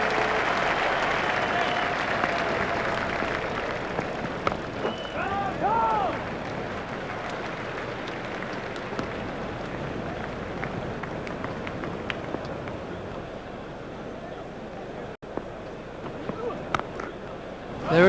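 A cricket crowd at a South Africa versus Australia one-day international applauds a batsman's half-century, sustained clapping from a large stadium audience under a commentator's voice.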